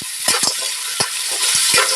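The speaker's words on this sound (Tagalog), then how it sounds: "Tara, ihulog na natin ang tahong." Mussels dropped into a sizzling pan of sautéed garlic, onion and ginger, a loud hiss with several sharp thumps and clatters as the shells land.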